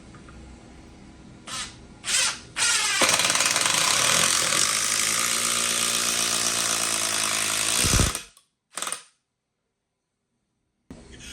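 A Ryobi 18V ONE+ HP brushless 1/4-inch impact driver (PBLID01B) in assist mode driving screws into wood, with short trigger bursts followed by one sustained loud rattling hammer-whir lasting about five seconds, then brief blips and silence.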